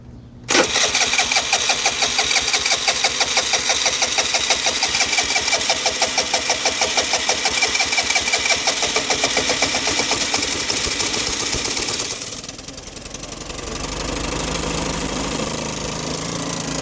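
A Vespa LX150 scooter running on the fuel left in its carburetor catches quickly and runs loud and close with a rapid, even pulsing beat, then settles to a quieter, softer idle near the end. No one speaks.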